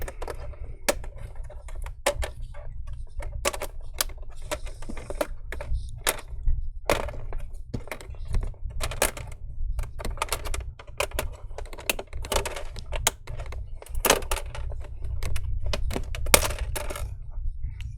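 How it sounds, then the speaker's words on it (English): A plastic prying tool works around the screen bezel of a Lenovo Legion laptop, giving a dense series of sharp clicks and snaps, close and crisp, irregular over about eighteen seconds. "What I'm doing right now is to separate the bezel."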